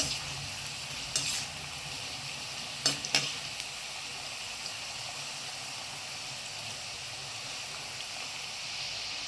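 Wheat flour snacks frying in oil over medium flame, a steady, moderately loud bubbling sizzle throughout, broken by a few brief scrapes and knocks as they are gently stirred.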